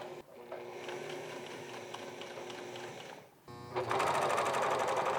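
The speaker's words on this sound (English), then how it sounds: "A little bit of top stitching as well." A sewing machine top stitching a button-up shirt: a close, steady mechanical whir that pauses briefly near the end, then restarts faster and louder.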